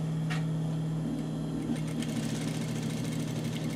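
A sewing machine stitches the collar of a dress, a steady motor hum running without a break for the whole stretch, close and moderately loud, with no talking over it.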